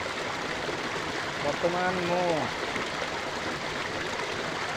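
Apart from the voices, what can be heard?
waterfall stream inside the forest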